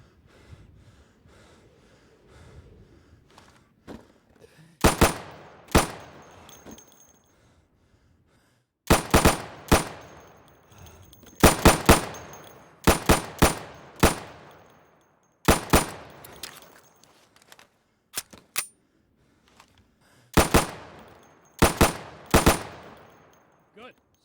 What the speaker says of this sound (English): So you can shoot accurately over 20 feet with your sidearm